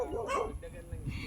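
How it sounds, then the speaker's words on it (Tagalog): A dog barks briefly nearby, mixed with a voice and background noise in a short, busy moment. "Uy, may aso! Huwag kayong gumalaw!"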